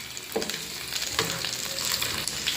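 Beetroot pachadi is stirred in a pan right after fried mustard seeds go in, giving a close sizzling hiss with a few scraping spoon strokes across the surface and no voices.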